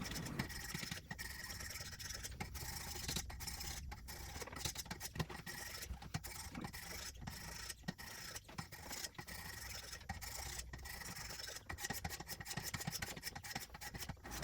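Schrade LB7 folding knife blade stroked across an 800 grit sharpening stone, quiet repeated rasping scrapes in a quick irregular rhythm, close and continuous with no speech.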